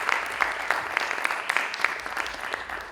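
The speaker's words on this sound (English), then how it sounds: "help me to give a big applause to yourself" A live audience at a young researchers' evening event in Agder breaks into sustained applause, dense clapping with a few sharper claps standing out, steady and fairly close throughout.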